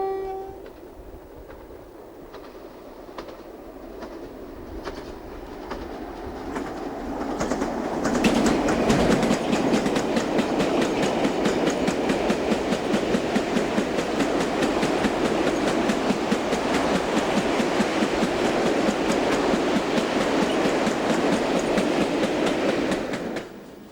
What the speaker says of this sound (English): Heading in the opposite direction is the Fursbrook to Hallen Marsh liquid petroleum gas train.